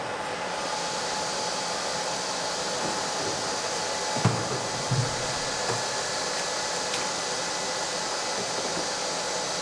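A carpet drying machine running in a carpet washing workshop, a steady loud mechanical whir with a few brief knocks midway, no talk.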